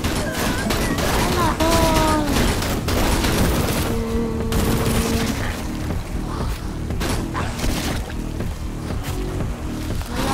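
Gunfire in the adventure video game Lost in Blue, with dense bursts of shots, booms and mechanical clanks over a loud continuous din, and a voice talking over part of it.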